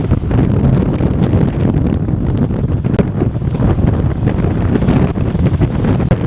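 Strong wind roars steadily beside a flooded river, buffeting the microphone with constant loud gusts and rumble, with no voices present.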